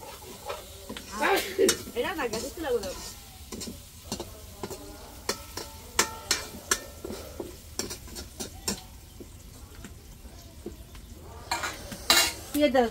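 A chapati flatbread fries in a home kitchen pan with soft sizzling, broken up by scraping stirs and clinks of utensils against metal and dishes, while voices talk now and then nearby.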